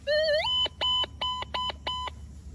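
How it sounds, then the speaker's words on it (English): A Minelab Gold Monster 1000 metal detector sounds off with a rising electronic sweep followed by four clipped, evenly spaced harmonic beeps, loud and clear over faint background hiss. "that's flatlining on the detector there"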